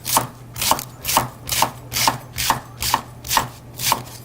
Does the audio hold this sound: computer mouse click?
no